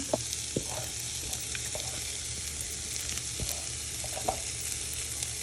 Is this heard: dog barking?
no